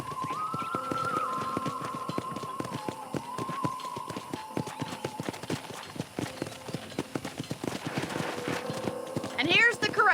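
Horse hooves clip-clop steadily over a busy backdrop of music and ambient sound at a ranch corral in the video game Red Dead Redemption, with a louder flourish near the end.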